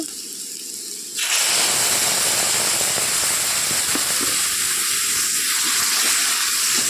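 Spice paste tipped into onions frying in a pan erupts into a loud, sudden hiss and spatter that holds steady and close for several seconds.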